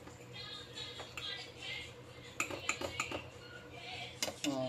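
Parboiled basmati rice is spooned into a biryani pot, with metal spoon clinks and scrapes against the vessel in irregular bursts, growing sharper toward the end, over a low kitchen background hum.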